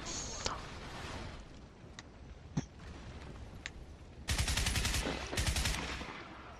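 Two loud bursts of automatic gunfire in Crysis arrive near the end after scattered single shots, with voices talking over the combat.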